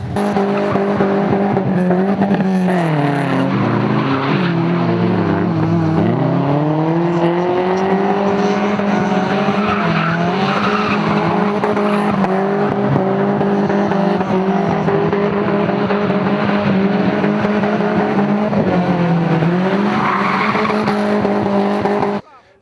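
Rally cars doing burnouts at a rally event, tyres squealing loudly and continuously with engines revving and wavering in pitch, close and sustained throughout.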